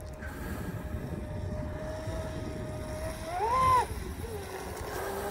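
The Sonicwake V2 electric RC boat runs at full throttle on a 9500 setup, making a steady whine over water and wind noise that rises to a brief louder surge before settling back.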